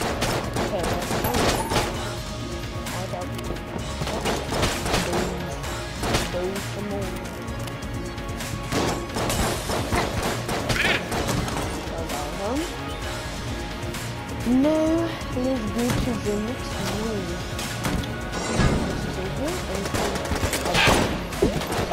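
Dense barrage of enemy gunfire in the dungeon-crawling shooter Enter the Gungeon, a busy, constant clatter of shots and impacts layered with game music and effects, with a voice reacting over it.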